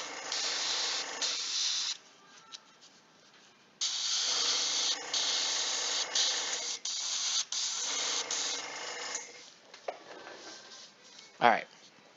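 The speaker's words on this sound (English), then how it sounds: "this airbrush is not making me happy." An airbrush sprays paint onto a miniature in close hissing bursts of a few seconds each, broken by short pauses, with a sharp sliding squeak near the end.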